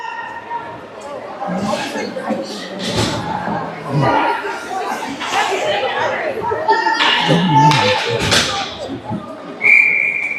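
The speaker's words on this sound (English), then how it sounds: "Rockets get a cheer going over there to get ready for the next" Fans cheering for the Rockets at a 14U youth hockey game in an arena: a crowd of voices chattering and calling out under a commentator's talk, with a sharp whistle near the end.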